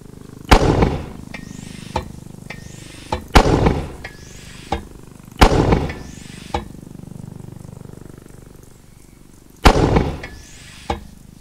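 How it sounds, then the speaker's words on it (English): Mortar fire and explosions in Arma 3 warfare gameplay: four heavy booming blasts spaced a few seconds apart, each trailed by a whistling descending tone and smaller crackling pops, loud against a quiet background. "I just mortared someone."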